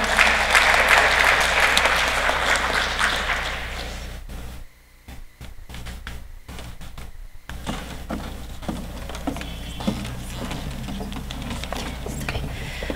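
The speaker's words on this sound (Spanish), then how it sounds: "La recibimos con un voto de aplausos, por favor." Audience applause at an academic law panel in Huancayo, Peru: dense clapping for several seconds that fades, with a short near-silent gap, then scattered claps and room noise resuming at a lower level.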